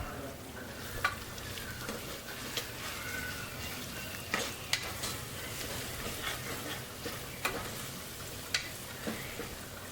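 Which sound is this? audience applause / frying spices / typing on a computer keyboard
frying spices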